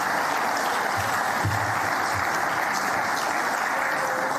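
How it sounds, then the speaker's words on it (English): A large audience at a sports awards ceremony gives a steady, dense round of applause, an even wash of many hands clapping that holds at full level throughout. "Skylar deserves a second round of applause"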